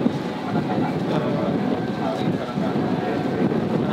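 Steady, loud wind buffeting outdoors, a continuous broadband rush with gusty swells that persists for the whole stretch, with no clear talk over it.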